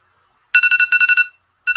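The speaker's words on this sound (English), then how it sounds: "That alarm's to let me know that it's 9 o'clock." A loud electronic alarm sounds for nine o'clock with a rapid burst of about eight high beeps, a short pause, then another beep cluster starting.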